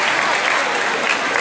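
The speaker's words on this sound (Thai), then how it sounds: "ขอเสียงปรบมือด้วยนะครับ" An audience at a live stage event claps in a dense, steady round of applause, loud and close, with no break across the short stretch.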